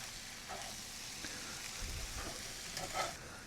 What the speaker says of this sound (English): And we'll just give this a big stir.